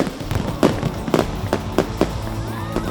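A New Year's Eve fireworks show on a waterfront: loud, close booms in an irregular series of about seven bursts, with crackling and a rising whistle near the end.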